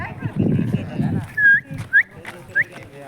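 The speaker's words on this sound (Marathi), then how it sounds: "मम्मी हा बघ कुत्रा." A dog gives three short, rising whimpering yips in quick succession, close by, following a stretch of mixed voices and background chatter.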